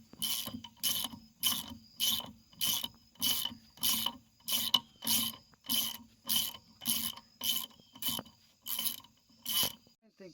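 A ratchet clicks in about fifteen even, rhythmic bursts while a wheel goes back onto a 1992 Chrysler New Yorker Fifth Avenue after rear bearing and drum work, each burst close, crisp and loud, with no talking.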